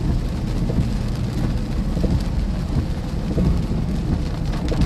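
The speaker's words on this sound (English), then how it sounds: "We got a lot of rain right here." Heavy rain pours steadily during a storm with flooding in southern Iowa, a loud, continuous dense wash with low rumble underneath and no break across the whole stretch.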